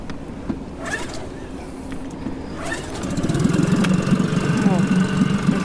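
An outboard motor on a True Kit Discovery 400 inflatable catamaran starts after a quiet stretch with faint voices, then runs with a steady, buzzing close-up drone.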